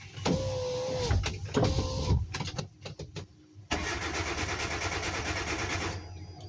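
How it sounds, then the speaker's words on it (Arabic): A car with a starting problem is cranked, with two short starter whirs, a few clicks and knocks, then the engine catches and settles into a loud steady run, with a faint whine near the end. "وهنقوم بتشغيل السيارة"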